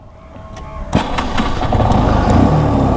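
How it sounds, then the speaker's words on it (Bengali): A repaired motorcycle engine starts about a second in with a sharp burst, then keeps running at a steady, fairly loud, close-up rumble that builds slightly. No one speaks. "আপনারা দেখতে পাচ্ছেন ইঞ্জিনের সাউন্ড এখন"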